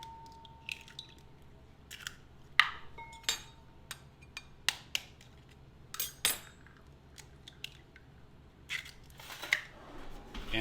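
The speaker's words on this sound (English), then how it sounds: "Crack open a couple of eggs here." Eggs cracked into a bowl for a wet batter in a kitchen, a scattered series of sharp, close taps, clicks and small clinks of shell and bowl, fairly quiet with no talking.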